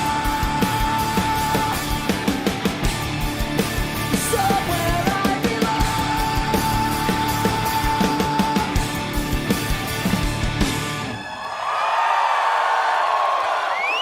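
Concert crowd at a show with a singer performing, loud cheers and yells over dense live band music, then the music cuts and the crowd roar continues alone near the end.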